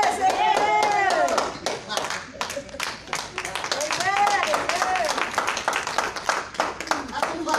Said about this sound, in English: That's a clap offering to the Lord.